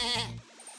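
A sheep in a video game gives one short, clear bleat up close, wavering briefly before trailing off into soft background sound.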